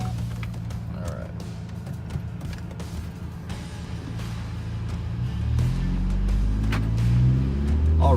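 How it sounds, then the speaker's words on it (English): Inside a moving 2012 Ford Focus SEL with a modified intake and exhaust, a low exhaust drone hums steadily, then deepens and grows louder as the engine revs up. "you can kind of hear the exhaust is a little loud in the cabin"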